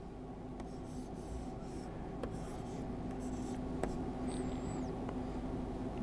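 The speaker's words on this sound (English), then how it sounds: "You can also write symbols, just like this, and you can also write math symbols." Stylus strokes across the screen of a Lenovo Idea Tab Plus tablet, a run of soft, faint scratchy taps and short glides at close range over a low steady background hum.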